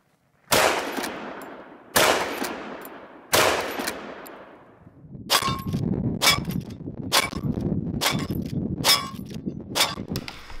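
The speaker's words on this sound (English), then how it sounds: "you'll be watching here a video of me shooting this gun accurately and quickly" A Marlin 336 Dark lever-action rifle fires three loud, sharp shots about 1.5 seconds apart, then rapid lever cycling and further quick shots ring out in fast succession.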